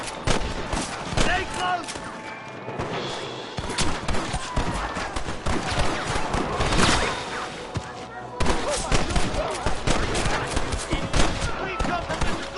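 Heavy, sustained gunfire from many weapons fills a shootout in Red Dead, with dense overlapping shots throughout and voices shouting over the battle.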